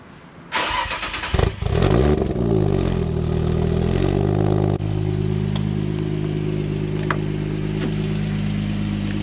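A Nissan Stagea GTR engine cranks with clattery starter bursts, catches and flares loudly, then settles into a steady close idle.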